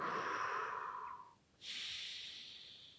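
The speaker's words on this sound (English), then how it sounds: "our whole cavity is breathing out, breathing in" Slow, audible breaths during a qigong exercise: a long hissing exhale fades out, a short pause follows, then a brighter inhale starts and holds steady, close and alone.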